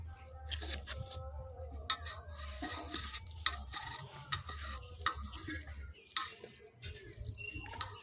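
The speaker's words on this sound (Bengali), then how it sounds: "এবার আমরা ভালো করে এটাকে মাখিয়ে নেব।" Hog plum being mixed by hand with spices, cumin water and a little mustard oil, a soft wet squelching and stirring with irregular clicks and taps, close and moderately quiet with no talk.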